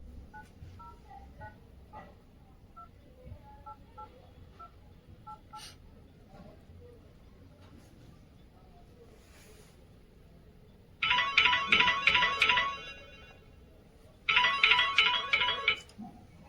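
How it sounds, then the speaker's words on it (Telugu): Telephone dialing for an outgoing call, soft keypad tones over quiet background, followed by two loud bursts of a bright electronic ringback tone separated by a short pause. "మనవాడికి ఫోన్ చేసి ఇప్పుడే రమ్మని చెప్తాను"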